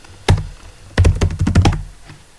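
Keystrokes on a computer keyboard while logging into an Ubuntu Server machine in VirtualBox: one isolated tap, then a quick burst of several close, clear clicks, with a faint final tap, no talking.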